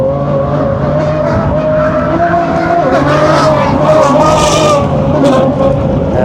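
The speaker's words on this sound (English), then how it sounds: "Sounds incredible with that V12 engine." A V12 race car's engine roars loudly and steadily as it passes on a track, pitch shifting with gear changes, with faint commentary-like voices beneath.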